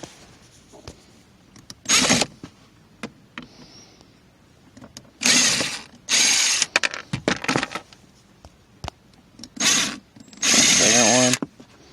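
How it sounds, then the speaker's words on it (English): Power screwdriver removing screws from the arm rest of a 2012 Hyundai Elantra: several short, loud whirring bursts separated by pauses and small handling clicks, close up. "We're going to go ahead and get these screws out on the bottom."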